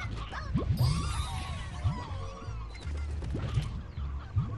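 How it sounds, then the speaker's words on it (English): Hens in the Slime Rancher video game cluck and squawk in repeated short calls over a busy game soundscape, with several overlapping bird sounds close by. "Ooh, a stony hen."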